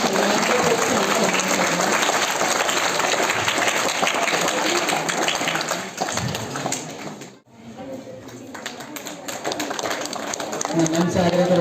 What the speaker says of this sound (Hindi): तो सबसे पहले इन सभी प्रतिभागियों के लिए बहुत बहुत ज्यादा आप लोगों की तरफ से ताली बजाई जानी चाहिए।